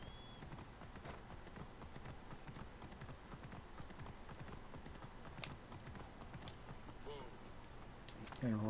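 Horse hooves clip-clop steadily in Assassin's Creed Origins, a rhythmic run of light footfalls set under someone talking and dense game ambience.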